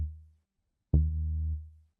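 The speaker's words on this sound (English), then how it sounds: "I like to stick with very percussive and short bass sounds like this" Two short percussive sub bass plucks from a Diva synth patch in a relaxed desert house style, a brief low note followed by a longer sustained one after a pause, heard alone and fairly quiet.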